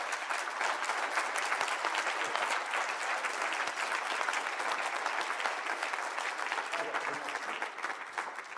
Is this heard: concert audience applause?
yes